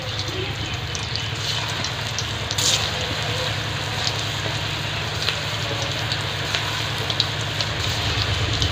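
Jackfruit kofta balls fry in hot oil over medium heat, making a continuous dense sizzle and crackle close by, with occasional sharper pops.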